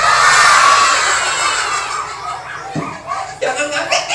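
Kindergarten children at an Indonesian school storytelling event shout in unison imitating a dog barking, a loud group cry that breaks into scattered laughter and chatter.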